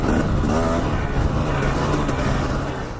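A dirt motorcycle engine roars continuously at high revs while accelerating through desert whoops. It sounds loud and close with a steady drone that eases slightly at the end, and nobody speaks.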